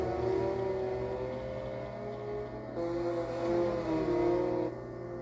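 Datsun race cars lapping Sonoma Raceway, their engines droning loud and steady with rising and falling pitch as they power out of corners, one car close and another joining the roar.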